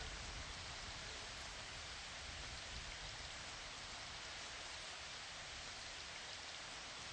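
Steady, dense rainfall on a rainy night forms a constant hiss of drops that stays even and unbroken throughout, with no voices or other sounds.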